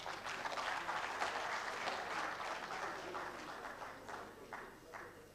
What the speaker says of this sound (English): Can we applaud him once again?